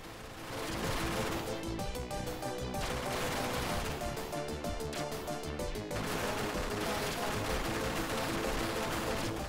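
Rapid gunfire from a shooting video game played on a Mega SG, steady and loud across the whole stretch, with layered music and sound effects and no talk over it.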